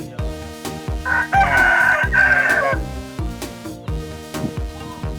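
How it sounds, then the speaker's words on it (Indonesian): A rooster crows loudly once, a long strained call, over rhythmic background music with steady beats. "Wah ini ayam jago."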